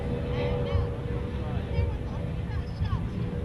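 A racing powerboat runs during the 2011 Round the Island Powerboat Race in Bermuda, its engine a steady, droning roar heard throughout beneath a commentator's talk.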